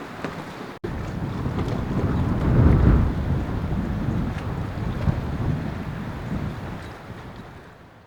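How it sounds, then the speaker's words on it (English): Heavy rain and gusty wind roar across a sailboat during winter sailing in Alaska, a dense, close wash of noise with wind buffeting the microphone, swelling around the middle before easing, with no voices. "it's raining super hard, but the wind is not too bad, it's just gusty"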